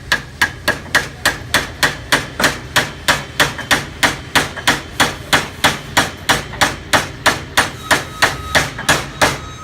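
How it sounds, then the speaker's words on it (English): A hammer taps a bearing down and off a shaft held in a vise on an AMCO ditcher, ringing out about thirty sharp metallic blows in a fast, steady rhythm, close and loud, with no talk. "So now what I'm going to do is just attempt to tap the bearing down and off the shaft."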